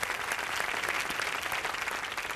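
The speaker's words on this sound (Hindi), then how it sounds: "बबली के लिए तालियां।" A studio audience at a family game show breaks into brisk, even applause, a dense spread of clapping hands at moderate distance, steady throughout without any talk over it.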